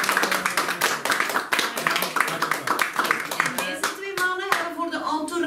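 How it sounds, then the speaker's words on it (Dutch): Hearty applause at a get-together during a classic car event in Sint-Truiden, Belgium, with close, sharp hand claps from a small group, fading as voices talk and laugh over the end. "En ik denk een hartelijk applaus."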